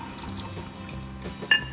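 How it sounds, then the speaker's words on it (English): Tap water runs steadily into a sink while removable milk frother parts of a BONCAFÉ F11 fully automatic coffee machine are rinsed, with a short sharp clink of a part near the end. "Wash it under the tap water."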